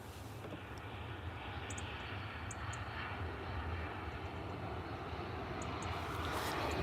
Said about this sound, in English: this is a Ryanair 737 from Dublin.